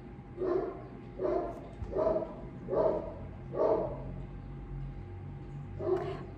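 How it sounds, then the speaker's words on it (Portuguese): A neighbour's dog barks six times at a steady pace, muffled and moderately distant, with a short pause before the final bark and no voices. "Vamos esperar, né, o cachorro da vizinha parar de latir."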